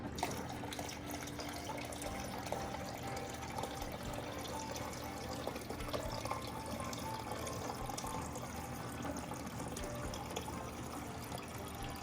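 Water runs steadily from the dispenser of an LG refrigerator being flushed after a new water filter is fitted, a continuous close-up hiss and trickle lasting the whole stretch with no talking.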